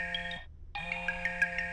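A cartoon mobile phone ringtone plays loud and close, a bright electronic melody that breaks off briefly and then resumes, with no talking over it.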